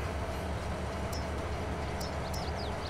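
A grain train in a Saskatchewan farming video game rumbles steadily with a constant rolling drone, faint high squeals and clicks cutting through near the end, no voices.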